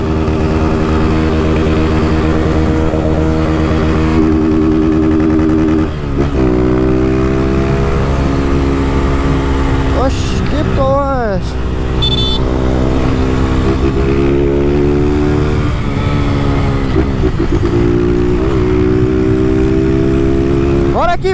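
A Honda Start 160 motorcycle with a Dore exhaust and no air filter roars loudly and continuously nearby, revving hard through several gear shifts with rising and falling pitch, while someone talks over it.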